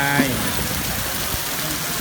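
Heavy rain pours steadily with a dense, constant hiss that doesn't let up.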